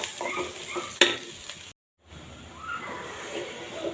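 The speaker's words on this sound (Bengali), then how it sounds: "লাল লাল ব্রাউন কালার করে পেঁয়াজ এবং আদা কুচিটা ভেজে নেব" Onion and chopped ginger frying in mustard oil for a mutton biryani, with a steady close sizzle, a sharp utensil clank near the start and a brief gap of silence midway before the frying noise resumes.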